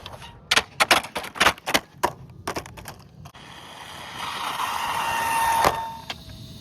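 A Hosim Moxlin M13 brushless 1/14 scale RC stadium truck driving: a series of sharp clattering bursts, then a rising electric motor whine as it speeds off, fairly close.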